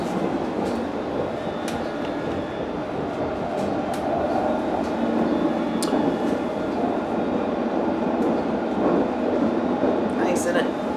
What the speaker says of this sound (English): It's just constant whirring sound because all the cars are powered